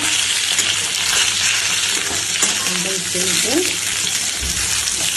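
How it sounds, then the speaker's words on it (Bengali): Steady, loud sizzling of katla fish frying crisp in hot oil fills the whole stretch, with faint scraping and a few clinks underneath. "এটাকে ভালো করে কড়া ভাজা তৈরি করে দিচ্ছি"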